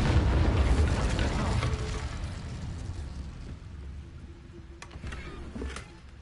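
A fire spell, Incendio, cast in a PlayStation 5 video game: a loud whooshing burst of flame at the start that roars and slowly fades, with a couple of brief sharp crackles near the end.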